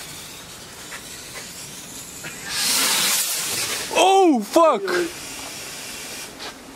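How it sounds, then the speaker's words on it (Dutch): Hand-lit fireworks at a house hiss loudly in a sustained burst, followed by sharp whistling, sputtering shrieks, while a person swears nearby. "DJ Tony gaat nu vuurwerk afsteken"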